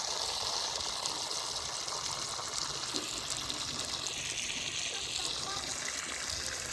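Cold water pours steadily into a container as it fills, a continuous close rushing gush with no breaks, with no talking audible over it.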